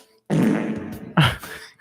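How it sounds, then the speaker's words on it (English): Volcanic gas venting through the Earth's crust, a flatulence-like sound in two loud, rough, low blasts, a long one followed by a shorter burst, with silence before, between and after them. "This is just a sound clip of volcanic gas and how it expresses through Earth's crust"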